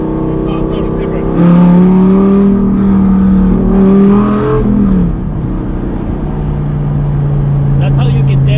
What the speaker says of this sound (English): Exhaust note is different.